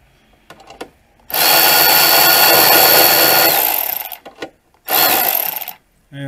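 A power tool drives down the wiper motor bolts on a 1999 Ford Ranger: a short blip, then a loud steady whir lasting about three seconds, a few brief bursts, then another sustained run, close and alone.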